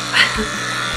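A ZEITGARD electric facial cleaning brush switched on with soap, giving a brief close buzzing hum that swells and then holds steady.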